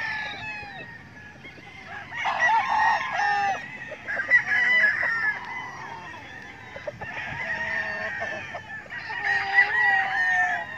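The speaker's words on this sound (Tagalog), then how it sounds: "Ito yung mga panabong dito." Fighting cocks at a game farm crowing repeatedly, several birds overlapping near and farther off, with clucking between the calls.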